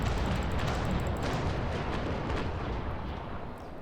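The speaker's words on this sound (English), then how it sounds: "Let's get a broadside over there." Broadside of ship cannons firing in the naval sailing game Naval Action, a dense, loud rumbling roar of overlapping booms that swells early and slowly fades, with no talk over it.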